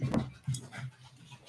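An 11-year-old dog breathes in short, quick pants with a faint whimpering edge, close by and fairly quiet, a few breathy bursts spaced across the moment.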